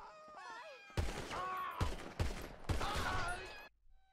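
Rapid bursts of gunfire in GTA 5 erupt in three loud volleys after a short opening of warbling game tones, then cut off abruptly into near silence.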